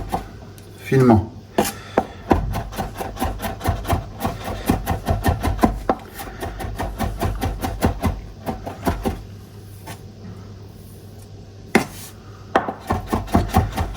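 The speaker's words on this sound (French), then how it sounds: "Et là, on va l'émincer. Vraiment, on va le faire vraiment, on va le hacher vraiment finement." Garlic is chopped finely with a knife on a cutting board, producing quick, rhythmic, close tapping strokes in steady runs with short pauses.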